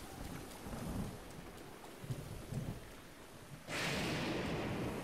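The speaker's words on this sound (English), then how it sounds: "Lightning storms are awesome." Rain and a rumbling thunderstorm in The Legend of Zelda: Breath of the Wild, a steady wash of rainfall with low thunder rolls, then a sudden loud, close lightning crack that swells into a dense roar for the last second or so.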